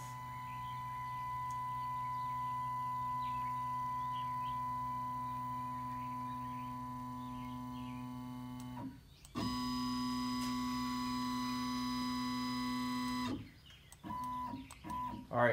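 A Shapeoko XXL CNC machine moves its gantry to an X and Y position, its stepper motors whining in sustained steady tones that stop, shift to a new pitch, then break into short stuttering bursts.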